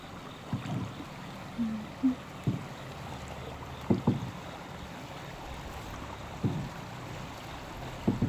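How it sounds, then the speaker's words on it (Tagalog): A small bangka rides a river current with a low, steady wash of water, broken by scattered soft knocks and splashes against the hull, and there is no talk. "Ayan po kami nakasakay na sa bangka."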